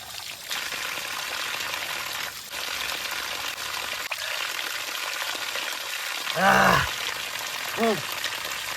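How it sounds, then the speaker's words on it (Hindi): A small spring-fed waterfall near Komsing Village, Arunachal Pradesh, gives a steady, close hiss of flowing, splashing water throughout, with short bursts of voices breaking in near the end. "लकीली अभी यहाँ एक झरना दिखा, पहले पानी पी लेते हैं दोस्तों।"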